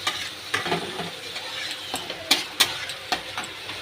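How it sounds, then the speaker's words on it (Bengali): Spice paste ground in a mixer sizzles in a pan while being stirred, with scraping spoon strokes and a few sharper clacks against the pan over a steady close frying hiss. "একটু নেড়ে নেব মশলাটাকে"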